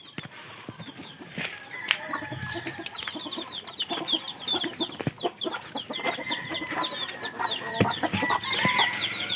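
Prize-winning fighting roosters cluck and crow close by, with frequent overlapping calls and sharp crows scattered through a busy farmyard mix.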